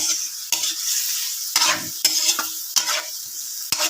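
Ingredients, chicken liver and gizzard for igado, stirred and mixed in a sizzling pan, with repeated scraping strokes over a steady frying hiss, loud and close.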